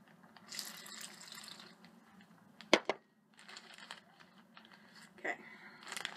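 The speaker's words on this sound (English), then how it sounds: "pour at least a little bit of this water into the baggie with the page" Water is poured into a plastic baggie that holds a paper page: a soft, fairly faint trickle with a few sharp clicks and crinkles of plastic partway through.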